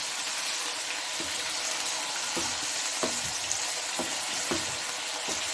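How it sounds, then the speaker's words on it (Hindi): Boneless mutton fries in a pan with a dense, constant sizzle, with occasional stirring scrapes and taps over it, close and steady with no talk. "तो अभी हम इसको थोड़ा सा भून देते हैं।"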